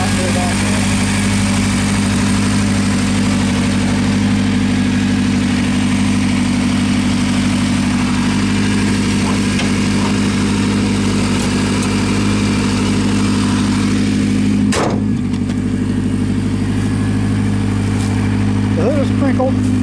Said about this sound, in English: the belt on the serpentine is slipping a little bit